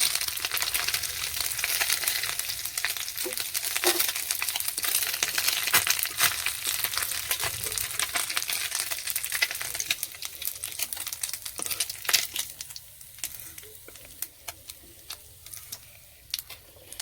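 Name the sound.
fish frying in oil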